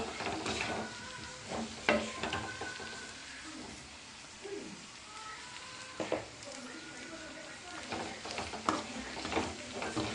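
Vegetables sizzle steadily in a hot pan during preparation of a tamarind curry, with intermittent scraping and clinking of a spoon stirring, fairly quiet and continuous.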